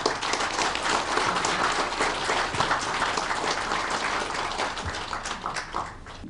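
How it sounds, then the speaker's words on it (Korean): A lecture-hall crowd at a 2015 community life forum welcomes an elderly speaker with a long, full round of applause, steady and evenly spread, tapering slightly toward the end. "모두 큰 박수로 부탁드리겠습니다."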